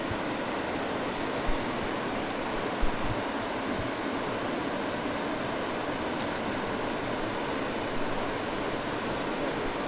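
Rapids on the Suwannee River in Florida rush over rocks in a dense, even wash of broadband water noise, steady and continuous with a few faint knocks, and no voices.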